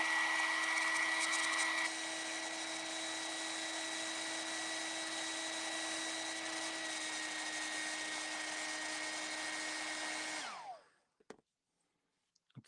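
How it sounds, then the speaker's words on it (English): A hair dryer blows steadily with a whining motor hum for several seconds, then switches off and winds down, leaving a few small clicks. "I'm just gonna hit this with a hair dryer real quick."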